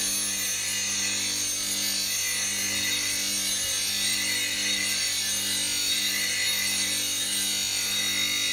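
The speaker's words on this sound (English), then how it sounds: "I place my hand on the platform and hold the gouge in my hand" A woodturning gouge being sharpened on a grinding wheel, rocked across the nose of the bevel, giving a steady, bright, rasping hiss over the grinder's constant hum for several seconds without pause.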